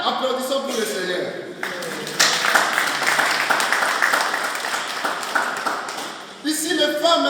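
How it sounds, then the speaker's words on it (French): A church congregation applauds at an Easter Vigil, sustained clapping filling the space for several seconds, with talk briefly heard at the start and end. "applaudissons pour le Seigneur"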